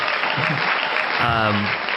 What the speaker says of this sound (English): I'm hitting the applause button again.